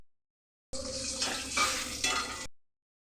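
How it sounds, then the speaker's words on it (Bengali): Cashews and raisins frying in a pan, a dense bright sizzle that starts abruptly, swells twice with stirring, and cuts off after under two seconds, close and loud with no talking. "একটু কাজু কিশমিশটা একটু ভেজে নিচ্ছি।"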